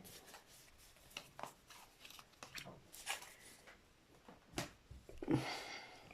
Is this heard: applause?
no